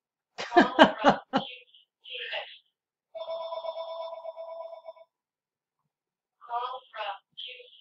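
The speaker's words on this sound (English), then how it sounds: "My phone is ringing, which I normally take off the hook." A desk phone rings in a short electronic trill, clear and close, set between brief bursts of someone talking.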